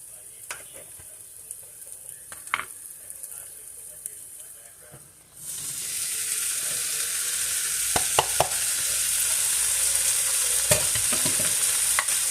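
Great Northern beans go into a hot pan and get stirred, a few clinks and scrapes first, then a sudden loud steady sizzle rising and holding, with spoon scrapes through the frying hiss.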